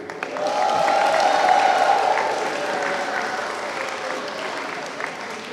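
An audience at a panel forum on school bullying applauds a panelist: steady, full applause that swells quickly, holds, then eases off gradually, with a faint tonal hum underneath.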